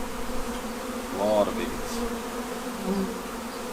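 Honey bees buzz steadily around an open beehive, a close, continuous droning swarm with a few louder passes near the listener, while someone speaks briefly over it.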